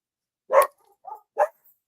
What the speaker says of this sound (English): My neighbor's dog is going crazy right now.